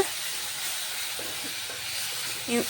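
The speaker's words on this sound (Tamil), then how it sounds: "இது நல்லா பச்சை வாசம் போகிற அளவுக்கு நல்லா பரட்டி விட்டுக்குங்க" Ginger garlic paste fries in a pan for Madurai-style curry leaf chicken, a steady close hiss and sizzle throughout with a brief clatter near the end.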